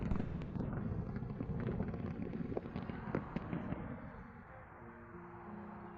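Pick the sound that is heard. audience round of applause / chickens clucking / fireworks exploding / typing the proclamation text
fireworks exploding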